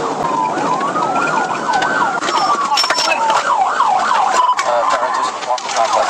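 Police car sirens wail loud and continuously during a high-speed pursuit, switching between long rising-falling sweeps and a rapid yelp over steady road noise.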